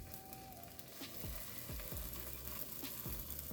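Garlic paste being stirred into a cooking mixture, with repeated soft scraping strokes at a steady rhythm over a faint background hiss, quiet and close with no speech.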